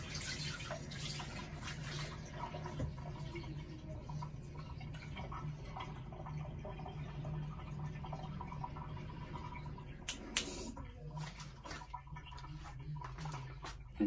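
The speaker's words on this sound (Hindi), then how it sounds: "अच्छा, ये मैं इसके अंदर 6 कप जो पानी ऐड कर रही हूँ।" Water is poured steadily into a pot of mixed daal being cooked restaurant style, a continuous low splashing and trickling that runs for about ten seconds before stopping, followed by quieter kitchen sounds.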